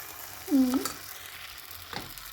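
Food fries quietly in a pan, a faint steady sizzle heard close up, with a brief squeak and the scrape of stirring.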